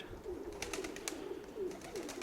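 A pigeon coos softly in a repeated rolling pattern of several low calls, with faint clicks and rustles around it in a quiet yard.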